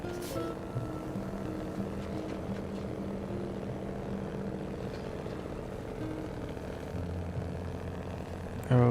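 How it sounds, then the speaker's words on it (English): Steady low drone of a Kenworth truck engine in a driving game, a sustained tonal hum with a constant rumbling texture, moderately faint and unchanging throughout, with no speech. "Turn up those Kenny engine sounds."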